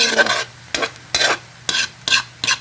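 Two eggs sizzle in a pan with rice and labahita fish while being stirred, rhythmic scraping strokes about every half second over a steady frying hiss, close and fairly loud with no voices.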